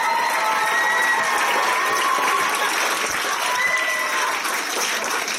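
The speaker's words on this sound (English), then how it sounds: "Can we have another round of applause?" A school performance audience breaks into loud, sustained applause after a female trio's number, a thick, even wash of many hands clapping with faint cheering mixed in.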